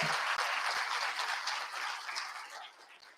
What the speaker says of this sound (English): A lot of applause for her.